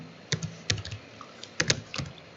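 Computer keyboard typing in short irregular bursts of crisp key clicks with pauses between, close and fairly quiet, no voices.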